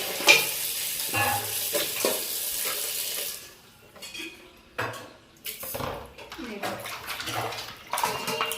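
Goat trotters rinsed and rubbed in water in a kitchen: steady splashing and sloshing, with clinks against a vessel, continuous for several seconds and then quieter, broken bursts of washing close by.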